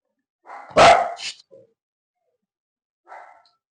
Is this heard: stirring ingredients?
no